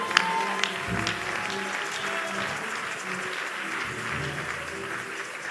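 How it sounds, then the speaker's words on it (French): A church congregation applauds during a prophetic worship evening, with dense, steady clapping held at an even level throughout and a faint voice or two under it. "Est-ce qu'on peut acclamer pour l'Esprit de Dieu?"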